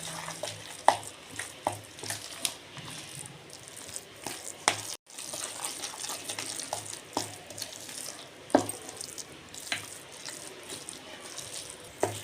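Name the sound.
mixing dal vada batter with chopped onion and coriander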